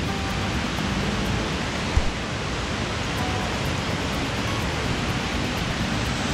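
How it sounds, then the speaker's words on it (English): A waterfall at Hidden Valley Holiday Park in County Wicklow roars as a steady, broadband rush of falling water, with rain falling, constant and loud with no talking. "There's that waterfall."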